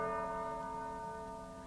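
A deep church bell tolls once, its low resonant tone ringing out and slowly decaying, fairly quiet.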